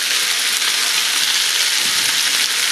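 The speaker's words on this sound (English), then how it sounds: "So I'm going to add a little bit more olive oil." Olive oil sizzling hard in a pan with onions, a loud, dense, continuous hiss that stays steady from start to finish with no voices.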